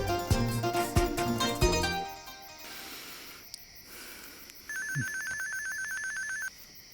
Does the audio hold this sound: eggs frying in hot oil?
no